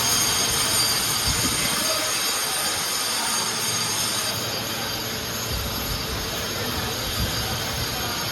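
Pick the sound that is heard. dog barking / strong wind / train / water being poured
train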